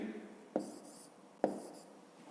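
A pen writing numbers on paper during a fifth-grade maths exercise, two short distinct scratches about a second apart, close and quiet in a still room.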